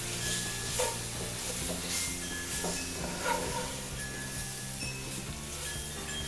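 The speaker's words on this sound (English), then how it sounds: "Next, I'm adding a teaspoon of minced garlic. Let that cook for just a few minutes." Minced garlic sizzles in a Dutch oven, a steady frying hiss with soft stirring scrapes running throughout, close and fairly even in level.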